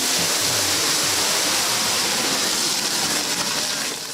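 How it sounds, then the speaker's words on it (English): A deep-fat chip pan fire erupts when doused with water at a fire safety demonstration, giving a loud, sustained roaring whoosh that fills the clip and eases off slightly at the end. "This is what happens when you try to put out a chip pan fire with water."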